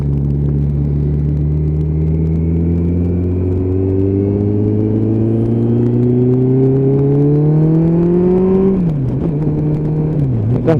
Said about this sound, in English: It don't take long for this GTR to wind itself up.